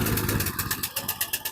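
A gas pressure washer's small engine catches on its first pull-start and sputters into a rough, pulsing idle, loud and close for a brief moment.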